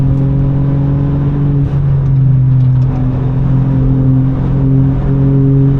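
A track car at full throttle on the Nürburgring, its engine holding a loud, steady harmonic drone with slight pitch shifts throughout, close and continuous with no talk.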